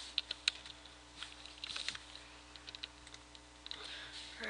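Typing on a computer keyboard while writing HTML, heard as faint scattered clicks and short bursts of keystrokes, some louder taps standing out over a quiet background hum.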